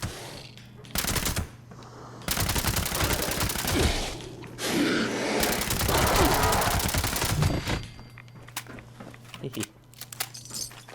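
Rapid automatic gunfire from the player's weapon in Fallout 76, loud sustained bursts of fast shots separated by pauses, with someone talking over parts of it.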